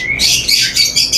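Caged fancy and imported birds in a shop squawk and chirp continuously, several shrill calls overlapping at close range with no talk.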